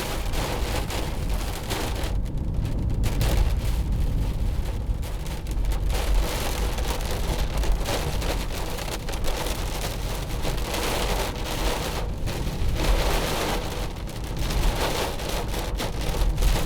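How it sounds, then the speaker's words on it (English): Steady heavy rain drums on the body and roof of a 2015 Mercedes-Benz C-Class, a dense, continuous hiss and patter heard from inside, loud and unbroken with no voices. "The rain bouncing off."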